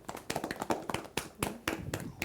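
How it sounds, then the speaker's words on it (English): Claps ring out from a small group at a televised accountancy quiz game show in Nigeria, uneven and fairly close, with a few sharp hand slaps standing out before it tapers off. "Can we give ourselves a round of applause"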